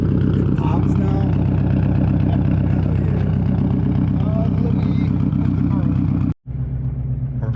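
A Subaru STI fitted with a new Tomei exhaust on stock headers idles with a deep, steady, close burble that cuts out abruptly for a split second near the end before resuming.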